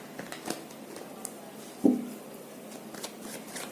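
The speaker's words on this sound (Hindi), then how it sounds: "एरीज राशि वालों के लिए अभी मैंने शफल ही करा है।" Soft riffling of tarot cards being shuffled by hand, faint and close, with one sharper snap of the deck partway through and quiet rustling around it.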